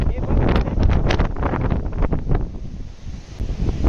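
Strong wind roars and buffets the microphone on Ratnadurg hill above the sea at Ratnagiri, with waves surging underneath in a loud, continuous rush.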